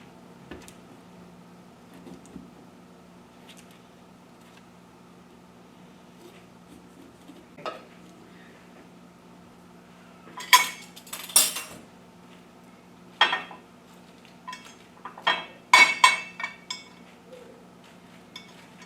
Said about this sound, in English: I will begin by cutting the squash lengthwise, then scoop out the seeds.